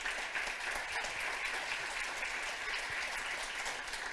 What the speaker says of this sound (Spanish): Un aplauso, por supuesto.